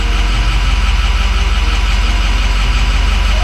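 A 2006 Ford F250 with a 6.0 Powerstroke diesel idles close up after a hot start, a loud, steady rhythmic clatter with deep low pulsing throughout.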